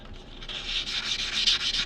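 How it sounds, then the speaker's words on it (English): Sandpaper rubs back and forth over the scuffed edge of a quarter coin ring, a close, dry scratchy rasp in quick repeated strokes that grows slightly louder near the end. "I'm going to go ahead and sand that down and make it nice and shiny"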